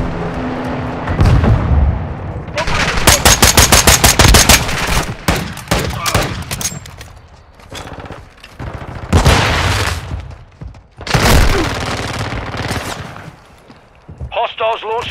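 Gunfire rattles through a Modern Warfare 2 Domination match on the Shoothouse map, with rapid automatic bursts, single sharp shots and booming impacts coming in loud clusters. Radio-style game voices sound between the volleys.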